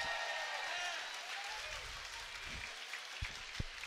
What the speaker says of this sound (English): How about a round of applause for these two great fighters